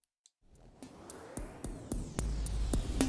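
Repeated percussive hits washed in a large reverb whose tail swells and shifts in size as an LFO modulates it, the ambience building louder and denser over a few seconds with no voice.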